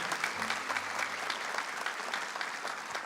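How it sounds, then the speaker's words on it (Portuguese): A church congregation claps together in sustained, even applause for about three seconds, a full and close wash of many hands with no pauses. "Pode aplaudir com força"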